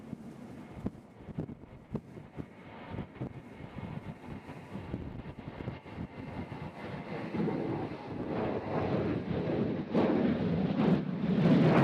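A Southwest airliner departs Nashville International Airport in strong wind, its jet roar building steadily from a distant rumble to a loud, broad drone amid gusty microphone buffeting.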